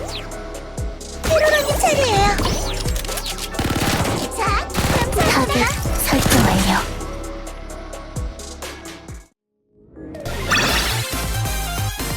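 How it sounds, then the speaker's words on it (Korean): A full barrage of gunfire in the video game Blue Archive, with dense rapid bursts, whizzing shots and impacts, plus music. It drops briefly to near silence before the shooting resumes, and voices speak over parts of it. "전탄 발사!"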